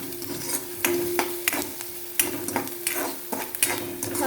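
Chopped onion fries in a pan for masala bhindi, a spoon stirring and scraping it in repeated clinks and scrapes over a steady close sizzle.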